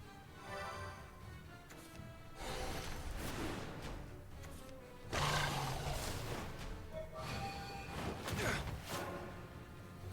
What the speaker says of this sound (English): Hear the dragons roar!